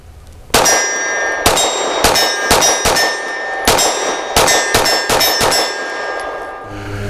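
Ten rapid pistol shots from a Sig P320 with a Romeo 1 Pro red dot, fired at 25 yards on an outdoor range, loud and close with ringing metallic echoes in a quick, slightly uneven cadence.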